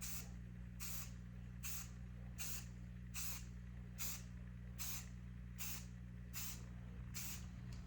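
Short bursts of aerosol spray paint hiss in an even rhythm, about ten brief sprays over a constant low hum, faint and close.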